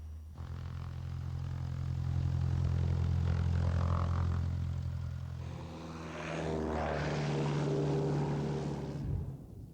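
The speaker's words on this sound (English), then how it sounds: "Cessna 241, fly runway heading, cleared for takeoff, runway 35" A Cessna propeller airplane takes off from a runway. The steady engine drone swells in a long, loud roar, dips briefly, then surges again before cutting off, with no talking.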